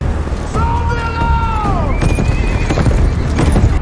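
A horse whinnies loudly with a long, wavering call, followed by a second higher neigh over rumbling hoofbeats and commotion.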